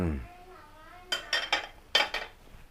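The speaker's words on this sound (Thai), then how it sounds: "แล้วก็จะตักใส่จาน" A metal spoon scoops mackerel in red curry paste from a pan onto a plate in a home kitchen, a few close clinks and scrapes in quick succession after a brief voice at the start.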